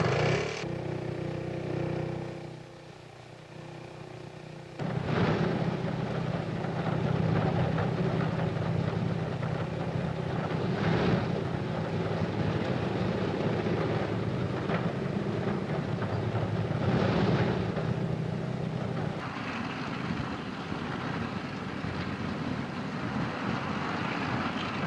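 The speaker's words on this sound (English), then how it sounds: "Tiny auxiliary motor starts each main engine in turn." Engines of a c1935 Imperial Airways Handley Page H.P.45 airliner starting one after another at Croydon Airport, a loud, steady propeller roar that surges and swells in waves over the whole stretch, with no talk.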